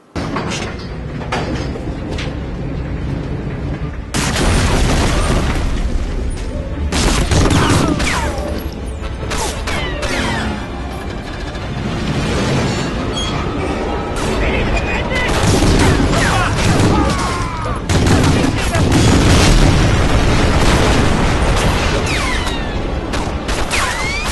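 Explosions and gunfire in Medal of Honor Frontline burst out as repeated loud booms, crashes and rattling shots, layered under steady talking throughout.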